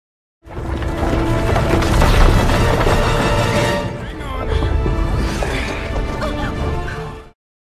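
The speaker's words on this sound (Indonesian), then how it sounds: "Dengan lemparan batu dari roh tanah, satu persatu bagian bendungan hancur hingga bendungan itu mulai runtuh." A dam in the animated film Frozen 2 breaks apart under rocks hurled by earth spirits: loud sustained crashing and rumbling booms that dip briefly midway, then surge again before cutting off, with music underneath.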